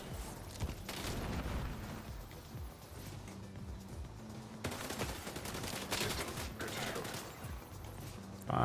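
Gunfire from a sniper and other weapons in The Division 2 video game, with repeated sharp shots and bursts layered over a dense, loud battle mix of explosions and mechanical noise.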